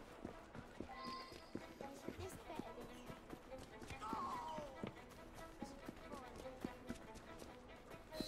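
Horse hooves clip-clopping at a run in the video game Assassin's Creed Syndicate, a quick rhythmic patter beneath game speech and music.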